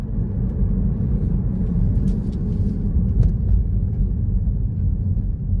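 Car moving slowly on a road while held back on approach to a roundabout, giving a steady low engine and road rumble throughout with no talk.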